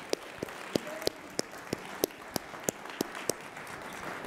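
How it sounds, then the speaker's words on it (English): Scattered, sparse handclaps from a conference audience ring out as distinct individual slaps, roughly evenly spaced over a quiet room hush, fairly close and not building into full applause. "Round of applause"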